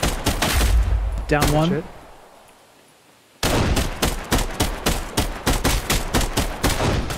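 Rapid bursts of gunfire in a VR battle royale video game, loud and close, with a short voiced exclamation partway through, a quiet lull, then a dense stream of rhythmic shots to the end.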